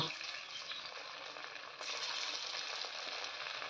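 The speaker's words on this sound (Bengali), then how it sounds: "এবার এরকম গোল গোল শেপ দিয়ে আমি পকোড়াগুলো তেলে ছেড়ে দেব।" Chicken mince pakoras go into hot white oil, a steady crackling sizzle that jumps louder partway through as more pieces drop in, with no voices.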